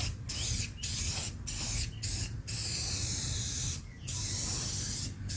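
Aerosol spray paint can spraying the floor pan of a 1974 Dodge D100 truck, a loud close hiss in about six bursts of varying length separated by short pauses.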